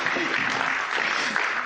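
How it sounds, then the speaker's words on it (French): Audience applause after a presentation session at a French e-health prevention conference, a dense steady wash of clapping lasting throughout at even loudness, with faint voices mixed in. "Oui, on peut applaudir."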